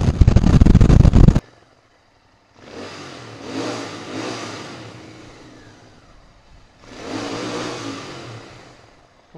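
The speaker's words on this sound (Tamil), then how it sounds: "எல்லாருமே திரும்பி பார்ப்பாங்க ஸ்டாக் எக்ஸாஸ்ட்டு, அந்தளவுக்கு எக்ஸாஸ்ட் சவுண்டு ரொம்பவே நல்லாயிருக்கு." A Royal Enfield Interceptor 650 motorcycle with its stock exhaust, revved hard in a loud burst, then rising and falling through two more throttle blips after a short pause, with no talk over it.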